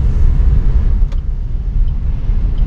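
A manual car drives through city streets in Cartagena, Colombia, with a steady, loud low road and engine rumble filling the clip throughout and one faint brief click midway.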